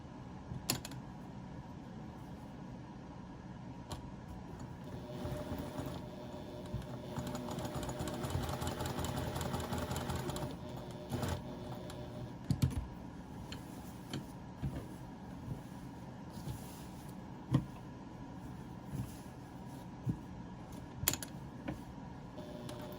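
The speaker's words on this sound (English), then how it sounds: "so I will be sewing them on" A sewing machine stitches appliqué stems and leaves onto a patchwork garden quilt, its motor whirring steadily for several seconds before giving way to scattered clicks and handling noises.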